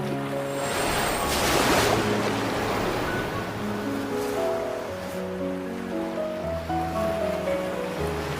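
Ocean waves in the game Love and Deepspace, a steady washing surf that swells and recedes beneath a soft layered musical score.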